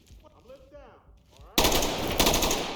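Sustained full-auto rifle fire in the tactical shooter Ready or Not, a dense rapid burst that erupts loud and close after a quieter stretch of faint ambient game sounds and continues to the end.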